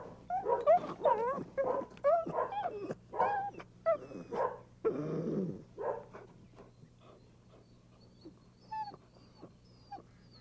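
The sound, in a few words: young dog whimpering and barking during training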